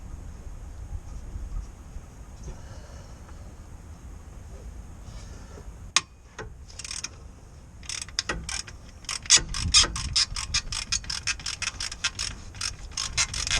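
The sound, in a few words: ratchet undoing a 14mm bolt on a Mitsubishi L200 transfer box mount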